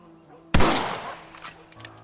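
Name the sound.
rifle shot in Red Dead Redemption video game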